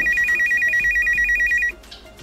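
A telephone rings with a rapid, evenly pulsed electronic ringtone, close and steady for under two seconds before stopping abruptly, leaving quiet room noise.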